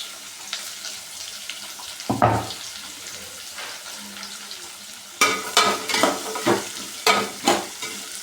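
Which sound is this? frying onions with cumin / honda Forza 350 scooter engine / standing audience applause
frying onions with cumin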